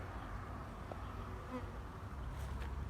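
A soft, continuous buzz of honeybees at a four-frame hive in late November, low and faint, with no one speaking.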